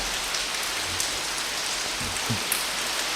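Steady rain falls outdoors, a dense continuous hiss with occasional louder drops and low thumps, no speech over it.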